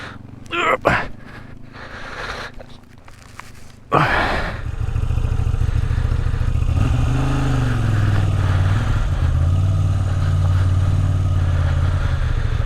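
A Moto Guzzi V85 TT motorcycle loaded with luggage rides along, its engine settling into a steady loud drone with a low throb after a few seconds of clattering and gusty noise.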